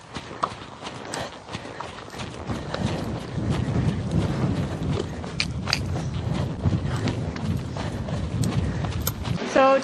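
A young horse's hooves clip-clop steadily on the ground during a ride, a close, irregular walking rhythm with some rustle and faint voices in the background.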